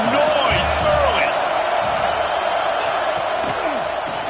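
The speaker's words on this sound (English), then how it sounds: "This crowd bringing the energy and noise early." Stadium crowd roars loudly and continuously in an NCAA football video game, a dense wash of cheering with scattered whoops under a commentator's voice.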